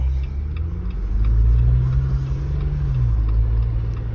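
A four-wheel-drive truck's engine rumbles steadily as it drives at about 10 miles an hour, with a low revving drone that swells slightly midway and settles again.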